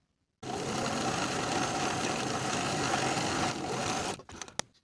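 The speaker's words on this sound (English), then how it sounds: "we'll top stitch in place with a 1/4 inch seam allowance from one side to the other" Sewing machine topstitching a jacket yoke seam, running in one steady, continuous burst of rapid stitching for nearly four seconds before slowing and stopping with a few light clicks.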